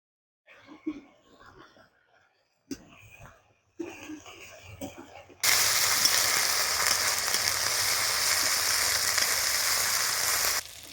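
Ginger paste hits lightly fried onion paste and nigella seeds in hot oil for a Bengali koi fish curry, giving a loud, steady sizzle for the last five seconds after a stretch of quiet, low murmuring and soft kitchen sounds.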